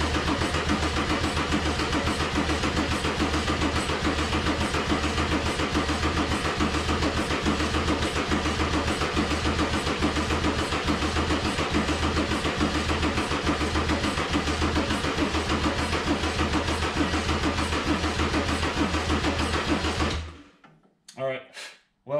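Mercedes-Benz 190E (W201) with a swapped OM606 diesel cranking without catching, a steady loud rhythmic starter churn lasting about twenty seconds that stops abruptly as the battery gives out, followed by near silence.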